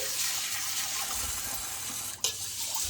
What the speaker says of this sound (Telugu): ఒక కప్పు పెసలు తీసుకోవాలి. శుభ్రంగా 3-4 టైమ్స్ కడుక్కోవాలి.